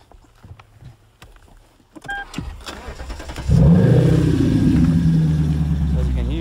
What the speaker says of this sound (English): got a pretty good growl and rumble from the straight piped X-Force exhaust